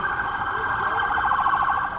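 A police car siren wails steadily along a city street in Montréal, loud and close with a continuous warbling tone over traffic noise.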